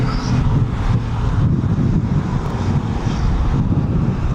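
A training flight aircraft climbing away at East Midlands Airport, heard as a loud continuous low engine roar mixed with heavy wind buffeting on the microphone.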